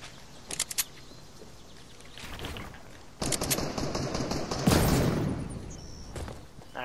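Gunfire in the Fortnite video game: short bursts of rapid shots early on, then louder, denser automatic fire and a sharp blast, some of it distant, with no talking.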